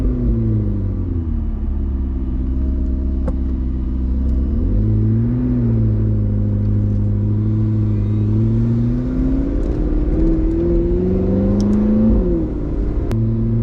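McLaren 650S engine revving loudly and steadily as gears are shifted with the paddles, the drone dipping and climbing in pitch at each change, close and continuous with no talk.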